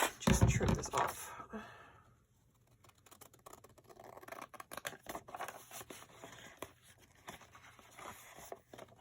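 Scissors trimming paper for a handmade junk journal, a loud rustle of handled paper at first, then a run of small close snips and crinkles after a quiet pause.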